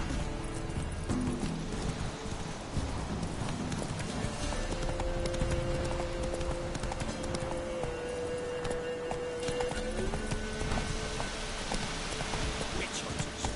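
Geralt's horse Roach gallops in The Witcher 3: Wild Hunt, a fast, continuous drum of hoofbeats partly buried under rain-like ambience and a sustained musical drone.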